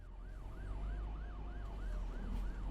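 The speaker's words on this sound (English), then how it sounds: "That siren has followed me the whole journey, hasn't it?" An emergency vehicle siren in the OMSI 2 bus simulator yelps in rapid, even up-and-down cycles, steady and moderately distant over a low engine drone.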